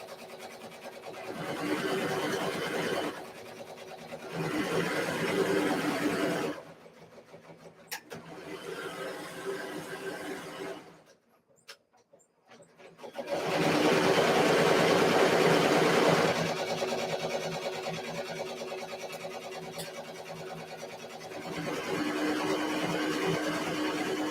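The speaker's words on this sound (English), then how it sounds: "I'm going to go back to serging." A serger sewing machine runs in long steady bursts, its dense mechanical whir stopping briefly between runs and starting up again at full loudness.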